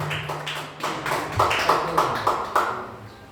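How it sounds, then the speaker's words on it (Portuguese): Congregation at a church service clapping in a steady rhythm, sharp slaps landing about every third of a second, loud and close with a faint low hum underneath. "As palmas a você."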